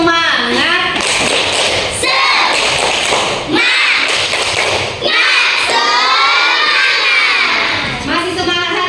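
A class of children doing a spirit clap chant together, rhythmic thumping claps mixed with loud shouted and chanted voices throughout, close and continuous.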